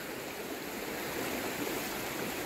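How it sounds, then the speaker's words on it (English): The Cuyahoga River flows past a wooded riverbank upstream of Cleveland, giving a steady, close broadband rush of moving water with no pauses and no voices. "We made it down to the bank of the Cuyahoga River."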